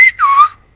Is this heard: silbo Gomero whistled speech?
yes